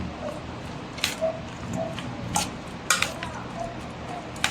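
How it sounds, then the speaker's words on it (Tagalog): Ilocano dinakdakan is stirred in a bowl with a utensil, giving a few sharp clinks and scrapes spaced over a soft room hush, close by with no voices. "Tapos, haluin mo ngayon yan."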